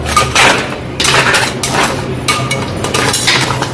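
Crab being mixed by hand with marinade spices, turmeric, garam masala, onion paste and tomato puree in a bowl, giving a steady close-up run of wet scraping and clinking against the bowl, with no talk.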